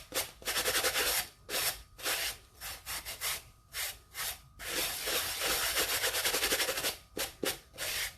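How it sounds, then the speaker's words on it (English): A sanding block with fine and rough sides is rubbed back and forth over the lip of a tumbler, making rhythmic, close, raspy scraping strokes in steady bursts with brief pauses between passes. "So I'm going to take my sanding block."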